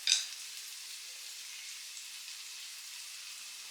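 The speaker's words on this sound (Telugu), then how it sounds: "టమాటాలు కూడా కొద్దిసేపు వేగనిద్దాం" Tomatoes fry in a pan for egg Maggi, giving a steady, even sizzle that holds throughout after a brief louder burst at the start.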